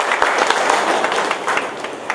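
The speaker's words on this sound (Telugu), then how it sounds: "చారియర్ గారిని ఒకసారి చప్పట్ల ద్వారా అభినందించవలసిందిగా కోరుతున్నాను" Audience in a hall clapping together for a performer, a dense steady patter of many hands lasting throughout, fairly close and even in loudness, with no speech over it.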